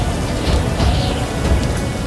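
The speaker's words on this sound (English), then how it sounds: "It's raining too hard." Heavy rain pours down in a steady, loud, dense roar, with occasional low rumbles mixed in and no voices over it.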